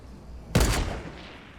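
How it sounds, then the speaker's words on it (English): A single sniper rifle shot in Fortnite Battle Royale cracks out sharply and close, then a brief rumbling tail fades into quiet background. "Okay, he just sniped that guy."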